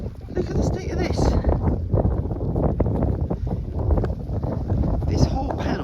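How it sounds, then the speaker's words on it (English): Wind gusts buffeting a Terra Nova Northern Lite 2 tent panel outdoors, a constant loud rushing roar with flapping fabric, while a person talks over it. "This whole panel just acts as one big sail that catches the wind."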